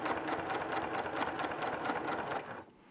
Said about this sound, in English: I'm sewing about a 1/16 of an inch away from that edge.